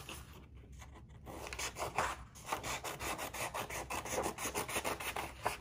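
Scissors snip through folded green construction paper in a steady run of short, close cutting strokes with a rasping, rubbing texture, heard alone without talk.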